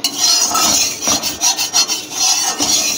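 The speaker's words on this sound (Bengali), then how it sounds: "এবার তেলটাকে একটু নাড়িয়ে নেব।" A spatula scrapes and stirs heating oil in a kadai before hilsa fish is fried, making repeated close, rough rasping strokes in an uneven rhythm.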